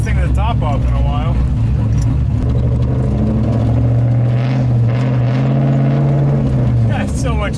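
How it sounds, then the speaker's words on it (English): A Mazda Miata with a swapped 6.2L LS V8 engine rumbles loudly with the top off and open-air wind noise, accelerating steadily while people talk over it. "it's so much louder with the top off"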